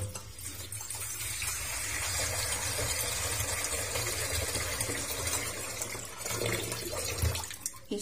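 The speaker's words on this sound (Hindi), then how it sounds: "अब इसके अंदर पानी इतना ऐड करेंगे कि ये डिप हो जाए।" Water poured steadily into a kadhai holding potatoes and fenugreek leaves for aloo methi, a continuous close splashing stream that runs for several seconds before tapering off near the end.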